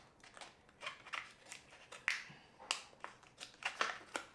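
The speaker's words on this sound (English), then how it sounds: "I'm cutting off this side." Scissors snip through paper while a cheap DIY product-photo backdrop is trimmed, a string of sharp, close cuts and crinkles coming in an irregular rhythm with no talking.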